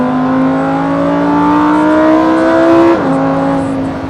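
Lamborghini Huracan EVO in Corsa mode pulling hard in seventh gear, a loud steady engine note rising in pitch for about three seconds before dipping briefly at a shift, then climbing again, heard from inside the car with no talk.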